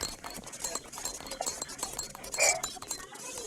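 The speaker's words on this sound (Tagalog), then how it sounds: "Glass keyboard." Typing on a glass keyboard, quiet, clicky and slightly chiming keystrokes in an irregular patter, close and faint, with a brighter clink near the middle.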